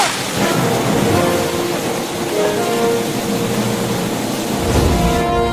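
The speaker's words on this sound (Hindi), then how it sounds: "बाहर बहुत तेज बारिश हो रही है" Heavy rain pours down outside in a village during flooding, a loud, continuous roar with a deep rumble underneath and no talking.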